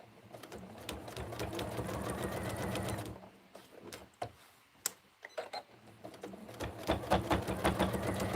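A sewing machine stitches random lines across layered quilt-as-you-go blocks, humming in a fast steady rattle, pausing midway for some clicks and handling knocks, then resuming its continuous run.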